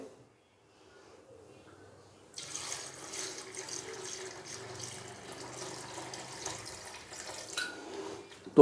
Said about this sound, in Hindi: तो अभी हम इसके अंदर पानी डालेंगे।